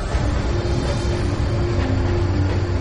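Freight train rolls downhill on a steep 2.2% grade, a loud, continuous rumble of wheels and cars with a low steady drone and faint rail clatter, no voices.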